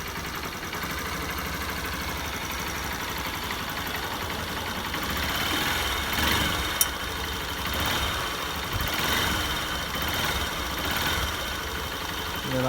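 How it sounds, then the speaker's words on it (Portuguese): A Honda Bros 150 motorcycle engine idles while warming up, a steady low mechanical rumble with faint vibration and slight swells, close and continuous with no talk. "Vocês visualizam aí que mudou o barulho do motor, né?"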